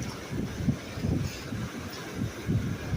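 Strong wind buffets the microphone on the Lake Superior shore, low rumbling gusts rising and falling in repeated surges, with no talking.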